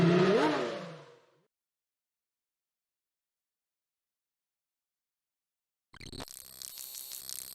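In the Thruxton sim racing game, a Civic race car engine gives a brief revving burst, then goes silent for several seconds. It returns near the end as a steady, buzzing drone.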